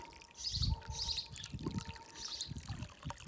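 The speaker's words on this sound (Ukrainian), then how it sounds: "Голубці цвірінькають, хочеться їм цвірінькати в таку жиру." Small birds chirp faintly in an outdoor garden setting with hot water running from a long pipe, the high twittering calls coming in short bursts over a steady trickle and low background noise.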